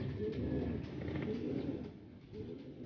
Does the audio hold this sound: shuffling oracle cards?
no